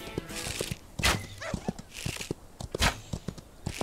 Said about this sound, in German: Ein schwarzes Pferd.